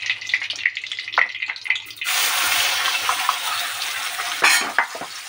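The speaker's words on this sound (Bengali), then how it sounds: "এখানে তেলটা গরম হয়ে গিয়েছে, এর মধ্যে আমি বাটা মশলাটা দিয়ে দেব।" Ground spice paste hits hot oil in a wok for Kolkata chicken curry, opening with a few clinks and stirs before a loud, steady sizzle swells and holds. Scraping knocks of the spatula cut in near the end.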